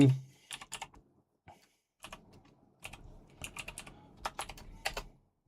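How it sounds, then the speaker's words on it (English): Typing on a computer keyboard, scattered bursts of quick key clicks with short gaps between them, close but fairly soft. "Why was I even typing that?"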